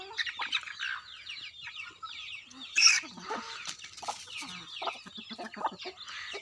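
Several chickens cluck and squawk close by in short, irregular bursts, with one louder squawk partway through.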